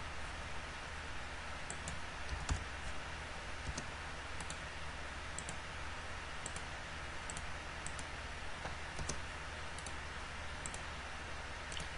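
Mouse clicks in CAD software while fillets are being added to a sketch, sounding as sharp, sparse, close clicks scattered at irregular intervals over a steady background hiss.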